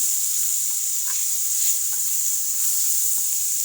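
Cumin and ginger paste frying in a hot pan while cooking fish, giving a steady bright hiss of sizzling oil with a few faint clinks of stirring, close and continuous without speech.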